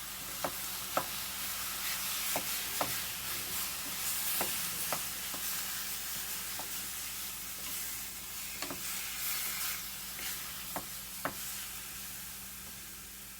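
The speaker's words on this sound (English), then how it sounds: "So we're going to get that all browned up" Three pounds of ground turkey browns in a pan for shepherd's pie, a soft steady sizzle with a spatula scraping and stirring now and then, quiet and close, with no talking.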